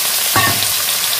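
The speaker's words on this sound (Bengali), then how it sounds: "আলুগুলোকে ভালো করে ভেজে নেব, পুরো লাল লাল করে ভাজতে হবে আলুগুলো।" Potato pieces frying in hot oil in a pan, a dense steady sizzle with a brief stir or drop near the start, close and loud with no talk.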